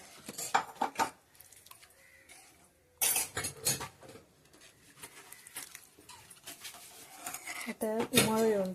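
A pot of green pea curry being stirred, with spoon and metal clinks and scraping against the pan in bursts, close and fairly loud, while someone speaks intermittently over it.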